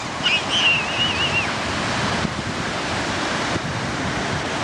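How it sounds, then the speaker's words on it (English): Strong wind roars across the microphone at a beach over crashing surf, a loud continuous rush, with a faint high bird call near the start. "It's a little windy, so you might hear a lot of wind in this video."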